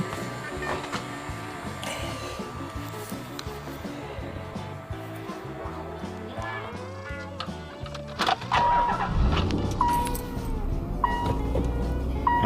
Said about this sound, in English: I'll back the car up and show you